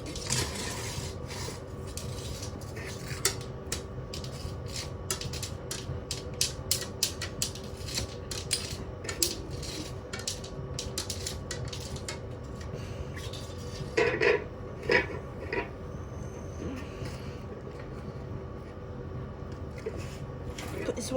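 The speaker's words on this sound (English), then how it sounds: "Put this washing machine back together." Metallic clanks, creaks and ratcheting from a washing machine being reassembled after destruction, scattered knocks and rattles at a moderate distance, with a few sharper bursts near the middle.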